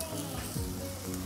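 Pork barbecue cooking on heat, a steady dense sizzle filling the short moment without talk.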